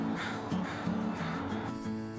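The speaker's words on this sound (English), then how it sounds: "These murders allow crows to communicate with each other using different pitch vocalizations." American crows caw in a loose series of rough, harsh calls, several overlapping caws at varying pitch sounding close and fairly loud, with no talking.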